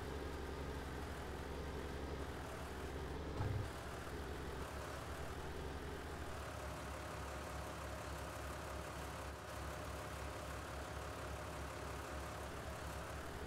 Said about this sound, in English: Tractor almost sounds like it's idling.